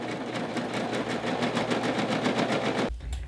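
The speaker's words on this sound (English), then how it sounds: "I'm actually gonna finish the raw edges of the seam on my serger" A serger finishing the raw seam edges of a quilt hums with a steady rapid stitching chatter for about three seconds, close and even, before it stops abruptly with a low thump.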